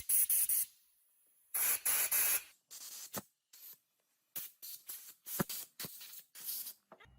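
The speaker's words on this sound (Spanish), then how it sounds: "Y ahora procedemos a soplar todo bien." Dirt bike carburetor parts from a two-stroke enduro motorcycle getting blown out with compressed air: two loud, sustained hissing blasts followed by many short sharp air bursts, close, with no talking.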